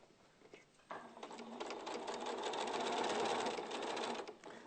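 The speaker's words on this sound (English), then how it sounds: "the line I've marked, I'm just going to sew right straight across" Sewing machine stitching a straight seam across marked fabric, a steady fast whirring hum starting after a brief lead-in and running loudly and continuously to the end.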